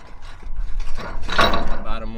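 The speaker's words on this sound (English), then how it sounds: "And now we just snug up these nuts." A ratchet wrench snugs up nuts with a quick run of close, clicking ratchet pawl sounds that rise in intensity toward the middle, with no voices.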